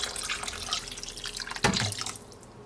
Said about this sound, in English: I'm going to pour in a couple of cups of water.